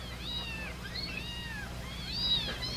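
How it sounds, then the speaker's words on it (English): Four newborn kittens mew in thin, high rising-and-falling cries, several calls in a row at close range, soft but clear over a quiet low hum with no talk. "Newborn kittens, four of them."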